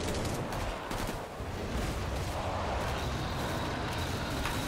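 Gunfire rattles in the video game Killing Floor 2 as a Commando fights, a rapid, dense stream of shots over a constant roaring battle bed. It stays loud and steady throughout, with no talk.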